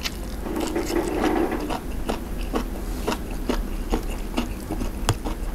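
Crisp, crunchy chewing of wakame seaweed dressed with sesame oil close to the mic, repeated bites and crunches in an irregular rhythm with no talking.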